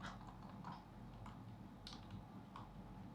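Sparse computer keyboard clicks and taps come from a player controlling a video game, irregular and fairly faint over a steady background hiss.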